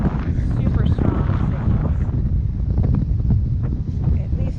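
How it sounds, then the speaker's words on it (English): Strong wind buffets the microphone on a windy beach, a loud, continuous low roar with gusty rumble lasting throughout, with no other sounds standing out. "I mean, it is windy."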